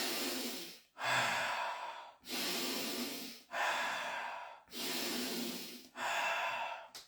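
Deep qigong breaths during a cycling-the-breath exercise, close and loud, in a steady rhythm of long airy inhales and exhales, about six in all and each separated by a brief pause.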